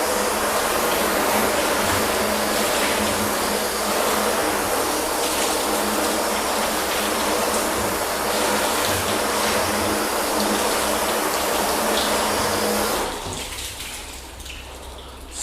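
Water from a hose sprays steadily onto a car being rinsed down during a ceramic quick detailer test, a loud continuous hiss that drops away near the end, leaving quieter trickling.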